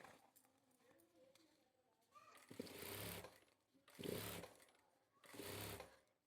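A sewing machine stitches a shirt in three loud whirring runs of a few seconds each, with quiet handling noise between them.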